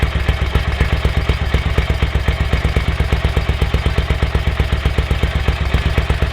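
Ducati 900SS bevel-drive motorcycle engine running during carburettor tuning, a loud steady rapid mechanical thumping and clatter held alive with light throttle, close and continuous without talk.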